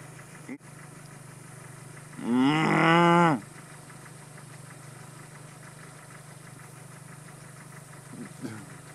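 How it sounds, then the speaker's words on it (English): Cattle answer a farm cow call with one loud, drawn-out moo of about a second, heard over a steady low idling engine rumble, with a fainter sound near the end. "this concludes cow calling for the day."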